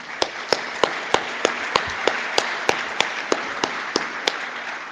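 An audience at a programming conference's opening session applauds its sponsors. Spaced, crisp claps come at an even rhythm over a steady background hum, sounding sparse rather than like a full crowd.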